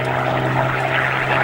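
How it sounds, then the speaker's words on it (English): A Hawker Hurricane's piston engine on an old recording plays back as a loud, steady droning hum with a constant low tone, close and unbroken throughout. "Noise which brings back nostalgia. It's the Hurricane."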